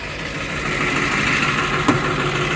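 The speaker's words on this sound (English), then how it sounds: "Rev it up." A car engine runs nearby with a steady, fairly loud mid-pitched drone and one brief knock near the end. No clear rise in revs stands out.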